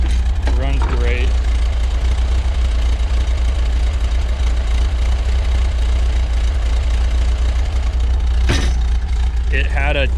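A Volkswagen Thing, recently given a full tune-up, idles steadily with a constant low engine drone for the whole stretch, while a person speaks briefly near the start and again near the end.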